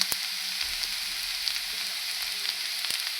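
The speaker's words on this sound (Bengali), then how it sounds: "আলু ভাজি করছি আর এই যে ডিম বোনা করছি আর ভাত রান্না করছি" Potato bhaji frying in a pan gives a steady, dense close sizzle with a few light utensil taps scattered through, and no one speaking.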